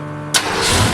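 A car engine fitted with a race carburetor cranks briefly and then catches abruptly, bursting into a loud, close, steady roar that holds to the end.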